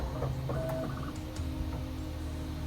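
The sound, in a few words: Bambu Lab P1S 3D printer calibrating and printing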